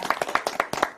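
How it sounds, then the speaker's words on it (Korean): A church congregation claps together in a short burst of sharp, fairly loud hand claps, roughly seven strikes in a quick, even rhythm, with no talk over them. "영광의 박수 올리겠습니다. 네, 박수 한번 칠까요?"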